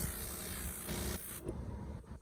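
A Strom battery-operated electric backpack sprayer mists a fine, hissing spray continuously at close range, then cuts off abruptly, leaving a quieter background with faint mechanical noise.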